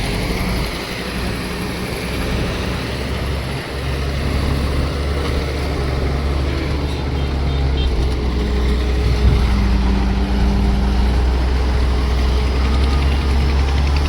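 A vehicle engine idles and labours while towing a boat on a trolley at Mangrol harbour, a continuous low droning hum that grows slightly louder midway, with a faint voice now and then.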